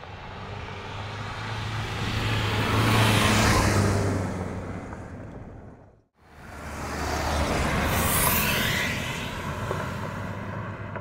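A Dacia Duster on a desert road in Morocco, with vehicles swelling up and fading away. Two loud passes are split by a sudden cut to silence, with steady engine and road roar throughout.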